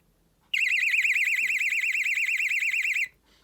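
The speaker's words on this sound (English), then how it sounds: "Yep, that's the siren." A Pyronix Belle alarm bell box siren blares loud and close with a rapid warbling wail, starting abruptly and running steadily for about two and a half seconds before cutting off to near silence.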